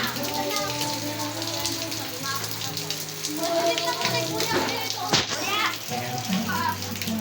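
Rain falling steadily on a street, a constant wash of patter with occasional voices and children's sounds in the background.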